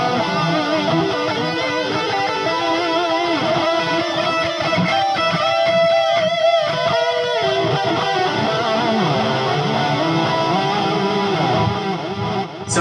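Electric guitar run through a HeadRush pedal delay, sustained distorted chords smeared into dense repeating echoes, loud and continuous with no voices over it.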